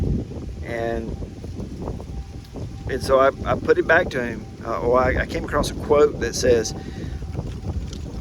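Wind buffets an outdoor microphone with a steady low rumble that swells and gusts beneath someone speaking throughout.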